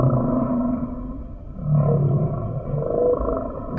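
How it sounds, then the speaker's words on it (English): Whale song underwater, a series of deep groaning and roaring calls rising and falling in swells over several seconds, fairly loud and close, with no voices. "And somehow, all the whales keep up with the changes."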